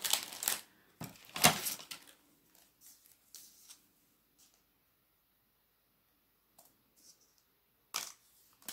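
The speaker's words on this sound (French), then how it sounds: "Hop, mon ciseau." Scissors cutting paper for a small paper craft embellishment, a few short crisp snips and rustles near the start, then mostly quiet with a couple of faint clicks and one last snip toward the end.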